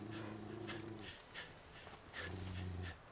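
A companion dog in the video game Far Cry 5 growls low and rumbling in two stretches separated by a short pause, with faint snuffly breathing between.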